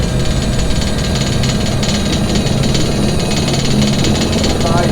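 An Agusta-Bell AB412 fire attack helicopter runs with a loud, steady turbine and rotor roar, continuous broadband engine noise close by without pause.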